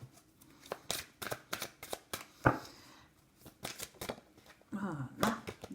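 Tarot cards are shuffled by hand in a run of sharp, irregular riffling bursts and soft slides with brief pauses between, close and fairly quiet, with a little talk in places.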